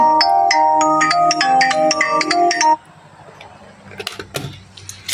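A phone ringtone plays a loud, repeating melodic chime up close for nearly three seconds, then cuts off, leaving quiet room noise and a few faint clicks.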